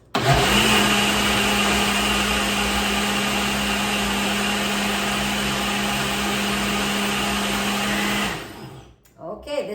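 A blender whirs loudly and steadily as it blends sea moss gel, holding a constant high motor whine for about eight seconds before winding down into clatter and handling noise.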